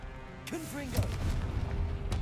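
Confringo fire spell blasting during combat in Hogwarts Legacy, a sudden booming burst near one second followed by rumbling, crackling explosion noise and a later sharp crack, with a voice-like tonal sweep just before.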